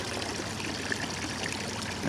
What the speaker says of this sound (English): Check the water pump.